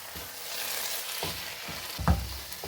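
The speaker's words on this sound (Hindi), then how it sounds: "खोया डालने के बाद 3 से 4 मिनट हम इसे अच्छे से भून लेंगे" Carrot halwa with khoya being roasted in a pan gives a soft, steady sizzle with a few faint stirring scrapes, close and alone with no voice.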